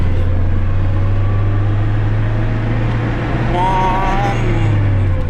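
GAZelle van accelerating on a road while carrying furniture, its engine giving a loud, steady low drone that rises toward the end, with some tonal whine above it.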